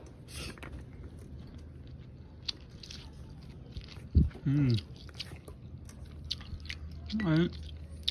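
Crunchy chewing of fried fish at a village meal, close bites and mastication sounds with a couple of louder crunches, over faint background noise.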